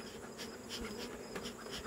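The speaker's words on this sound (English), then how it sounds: "Just want these bees to go, they get hung up in that comb and that honey" Honey bees buzz steadily around honeycomb in a hive, a dense close swarm drone with individual insects flaring louder as they pass near.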